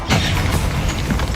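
A Confringo spell explosion in Hogwarts Legacy on PS5, a loud, dense blast of rumbling boom and crackling debris that fills the whole moment, close and alone without talk.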